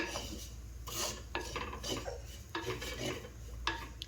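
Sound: spice powders being dry-roasted in a hot pan

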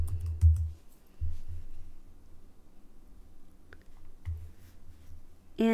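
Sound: typing on a computer keyboard

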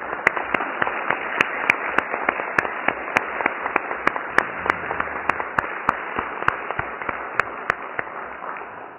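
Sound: audience applause

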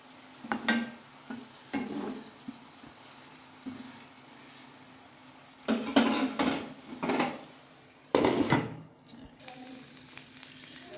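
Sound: mutton keema kebab patties frying in oil

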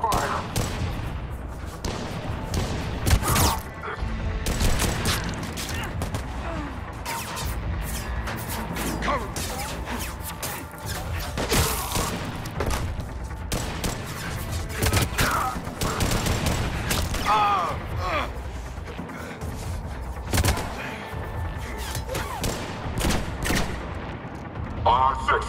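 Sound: gunfire in Mass Effect 3 video game

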